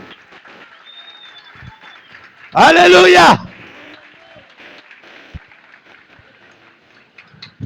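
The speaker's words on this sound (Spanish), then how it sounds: "Aplauda al Rey." A short burst of loud applause from a church congregation lasts under a second, between stretches of a single preacher's voice speaking over a quiet, reverberant room.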